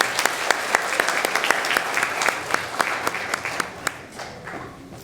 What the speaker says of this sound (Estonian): teeme siiski aplausi Toomas Kaskmanile